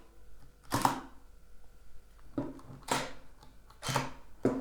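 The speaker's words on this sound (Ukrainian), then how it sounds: "затвор у Nikon D5300 уже більш м'яко працює, ніж у Nikon D5200 працював" A Nikon D5300 DSLR fires its shutter four times, each a crisp, close mechanical clack with short gaps between. No one speaks.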